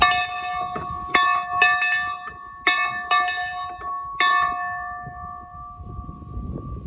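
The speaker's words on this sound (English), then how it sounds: "So that's my dinner bell." A metal dinner bell is struck several times at uneven intervals, each clang ringing out with a bright, sustained tone that slowly fades; no voices.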